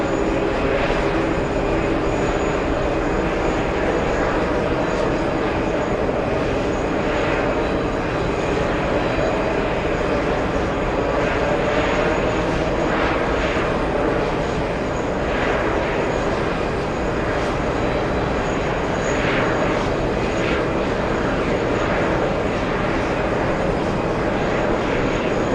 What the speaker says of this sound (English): looks like we have a CRJ 900 on final 422 right.